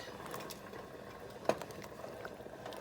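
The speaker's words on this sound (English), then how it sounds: "Ooh, it's bubbling up good." A shrimp, crawfish and corn bisque bubbling at a boil on the stove makes a faint, soft burble with a single sharper pop partway through, and no voices.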